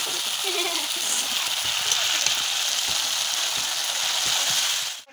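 Pieces of chicken meat frying in hot oil in a pan, a loud, even crackling sizzle with scattered sharp pops running throughout and cutting off at the end.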